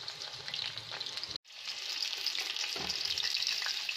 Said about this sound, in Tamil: இப்போ வந்து சிக்கன் நல்லா ஃப்ரை ஆகிடுச்சு